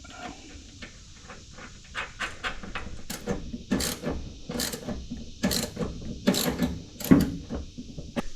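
A ratchet clicks in quick, uneven bursts while tightening a locking nut over a washer on a Rough Country hood lift kit. The mechanical ratcheting is close and fairly quiet, grows louder toward the end, and is heard alone with no talking.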